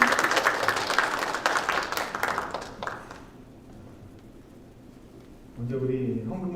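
A church congregation at a Toronto Sunday worship service applauds as the pastor steps up to the pulpit, a loud broadband clatter of clapping for about three seconds that then dies away into near silence before a voice begins.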